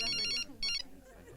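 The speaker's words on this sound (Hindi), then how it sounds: "फोन आया।" A telephone ringtone sounds in two short electronic bursts separated by a brief pause, fairly loud over a faint low background murmur.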